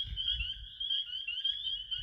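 A spring peeper frog gives a sustained high, thin peeping trill that runs steadily through the whole moment, close and clear over a low rumbling background with no talk.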